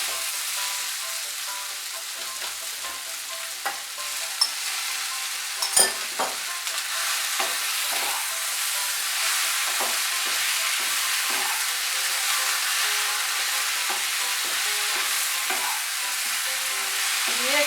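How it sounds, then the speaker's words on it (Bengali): Fried fish head sizzles with spices in a pan for a Bengali eggplant dish. A steady close frying hiss is broken by repeated scraping clicks of stirring, and no one speaks. "এর মধ্যে আমি ভেজে রাখা মাছের মুড়োটা দিয়ে দেব।"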